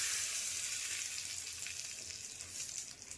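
Red chilli tempering for a fasting chutney served with sabudana vada, sizzling in hot oil with a steady, soft hiss that stays even and fairly quiet throughout, with no voices.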